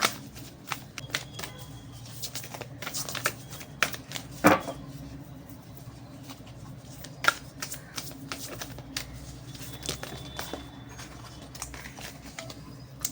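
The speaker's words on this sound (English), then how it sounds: "I felt that I'm shuffling forever, and finally these two cards fell." Tarot cards being shuffled over and over, a steady papery riffling with scattered sharper snaps, close by and moderately quiet throughout.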